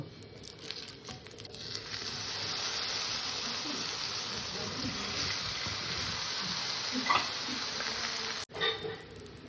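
Eggplant slices frying in hot oil in a pan give a steady, dense sizzle and crackle that runs unbroken throughout, with a brief dip near the end.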